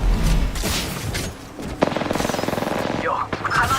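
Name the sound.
gunfire in the video game Apex Legends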